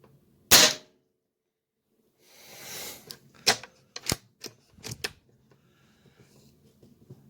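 A Hatsan Flashpup .25 air rifle fires one sharp, loud crack, followed after a pause by a brief rustle and a series of clicks and clacks from handling the rifle in a quiet setting, with no voices.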